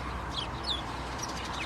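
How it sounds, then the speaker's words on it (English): Sparrows of several kinds chirp from a roadside bush: scattered short high tweets, a few at a time, heard over a constant broad rumble of passing traffic. "And it's just full of sparrows of all sorts."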